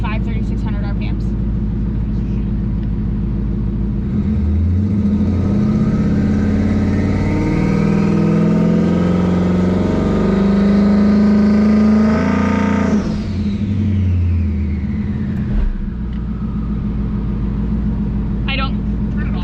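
A twin-turbo Ford Mustang engine idles, then revs up hard to around 3,600 RPM with a rising, loud roar that holds before dropping sharply back to a rumbling idle.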